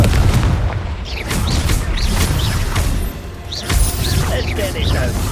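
Bombarda spell explosions in Hogwarts Legacy, heavy booming blasts and crashes with whooshing bursts over dense combat noise, loud and continuous throughout.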